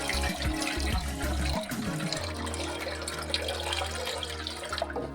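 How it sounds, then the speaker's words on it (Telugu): Water poured into a vessel holding smashed tamarind for pachi pulusu, a steady gushing, splashing stream that runs close and loud through most of the clip. "వాటర్ పోసుకుంటున్నాను."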